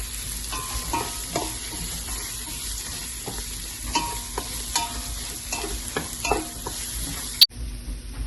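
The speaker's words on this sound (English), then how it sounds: "Now you're going to add in your chilies and then your grated ginger and garlic and continue sauteing." Chilies, grated ginger and garlic sizzle steadily in a pan as a spoon stirs and scrapes through them, producing repeated close clicks and scrapes over the continuous frying hiss, with no talking.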